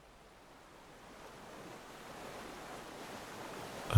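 Ocean surf on a beach rolls in as a broad, soft wash of noise that slowly builds over several seconds and ends with a louder surge, alone and without voices.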